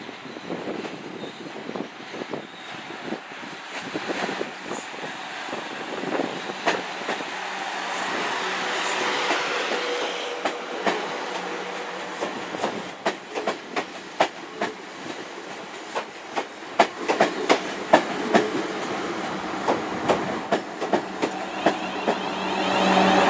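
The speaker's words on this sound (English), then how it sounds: "But I'll explain it once this train pulls in." A Desiro train unit rumbles into Weymouth station and slows, with clattering wheels, brake squeals and hissing air building over about twenty seconds at moderate volume.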